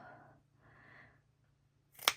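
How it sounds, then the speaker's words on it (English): Fabric scissors snip through a serged seam while a medieval vest is sewn: two soft, muffled cutting strokes, then one sharp, close snip at the end. "I'm just clipping through the serge."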